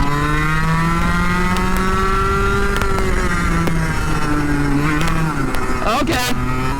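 A fast racing go-kart engine screams close up, its pitch climbing steadily through the upper revs for the whole stretch, with a brief wobble near the end.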